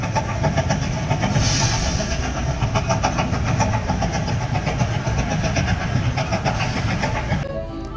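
A passing train rumbles steadily with a rhythmic clickety-clack of wheels over the rails. It stays loud and continuous with no voices, then drops off abruptly at the very end.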